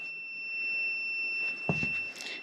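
A continuity tester beeps across a Lexus LS400 gear indicator and neutral safety switch, giving one steady, unbroken electronic tone that fills the whole moment. A couple of faint handling knocks come near the end.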